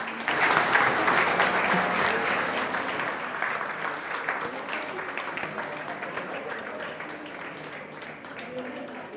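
A crowd at a Kurdish community gathering applauds loudly to welcome a guest, the clapping strongest at the start and slowly thinning over about nine seconds.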